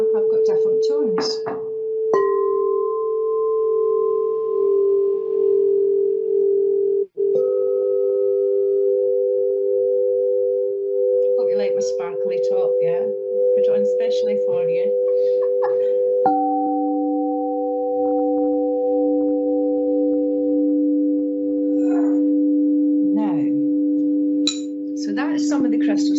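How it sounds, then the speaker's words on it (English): Crystal singing bowls struck with a striker give long sustained pure tones that overlap and change pitch every few seconds, ringing steadily beneath a voice talking over them. "So that is some of the crystal singing bowls and some of the different tones"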